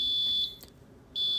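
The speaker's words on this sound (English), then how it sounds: "timer is vital in making the buzzer make an on and off noise due to its square waves" A homemade fire alarm's electronic buzzer, driven by a 555 timer, sounds a loud, steady high-pitched tone that cuts out for about half a second and then resumes, pulsing on and off.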